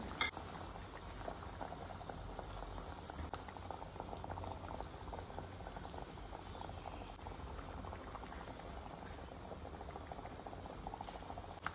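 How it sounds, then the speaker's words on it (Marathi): Eggs dropped one at a time into a pot of boiling Goan egg drop curry, with a steady, close bubbling simmer running throughout and no voices. "आनी एक एक करून आमी आतां हितून तांती घालून घेवया।"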